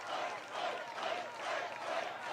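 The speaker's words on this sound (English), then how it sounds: "Crowd's kind of weak, if I'm being honest." A political rally crowd cheers and shouts from a distance in a steady, muffled roar that swells slightly in waves, faint and thin throughout, with no clear voices standing out.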